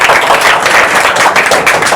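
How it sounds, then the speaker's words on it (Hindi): A classroom of students in a Hindi-medium class applauds a classmate called up to the board, making a loud, dense wash of clapping that holds steady throughout. "विनायक के लिए तालियां।"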